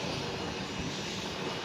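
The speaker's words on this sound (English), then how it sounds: "Now taxiing via Sierra for a north side departure at runway 8." An Embraer 145 jet airliner taxis at San Juan airport toward its departure runway, a loud, steady broadband engine roar that fills the whole clip without pauses or speech.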